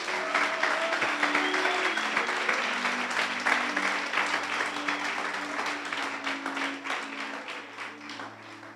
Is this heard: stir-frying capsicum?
no